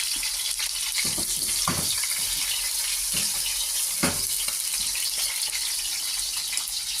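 Fish for escabeche fries in a large pan, sending out a dense, steady sizzle broken by a few sharper pops and spatters, loud and close throughout.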